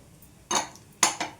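Roasted peanuts drop into a pan in a couple of short clattering bursts, bright and close, with near silence between them and no talking.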